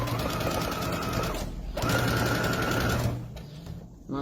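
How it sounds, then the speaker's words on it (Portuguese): A sewing machine stitches fabric in a dressmaking atelier, its motor humming in steady, fast needle runs, pausing briefly midway before starting again and then slowing off at the end. "E vou à máquina. Inicio a costura com o auxílio das mãos"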